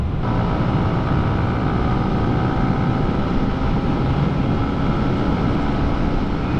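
Yamaha Sniper 155R motorcycle fitted with a 14-48 sprocket combo, its engine droning loudly and steadily at close range, a dense continuous roar with no pauses.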